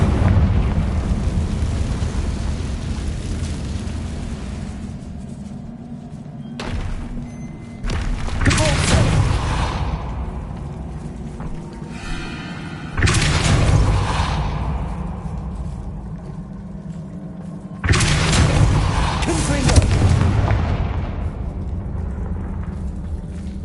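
The Confringo blasting curse in a Harry Potter video game sets off several heavy explosions. Each deep boom rolls into a long rumbling tail, with a few seconds between blasts, and a voice speaks between them.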